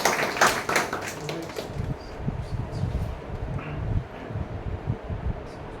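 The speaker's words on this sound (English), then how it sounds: "please give a big round of applause to Toastmaster Arshaan" A Toastmasters meeting audience claps for a speaker, a dense patter of hands that is loudest at the start and then carries on more unevenly.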